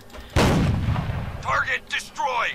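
A single heavy tank cannon blast from a Jagdpanzer's 8.8 cm gun in a video game hits hard and rolls off into a rumbling decay, followed by a few short game sound effects.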